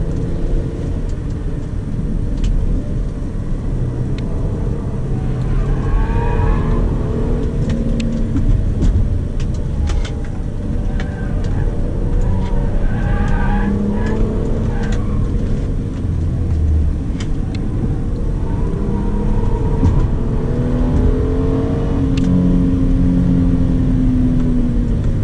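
Hyundai Azera with a 3.3-litre V6 accelerating on a road, heard from inside as a loud, steady low engine rumble and road roar that holds throughout, with no talk.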